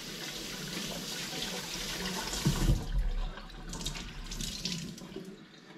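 Water running steadily from a tap into a sink, fairly close and loud, with a brief splash partway through before the flow softens and thins out.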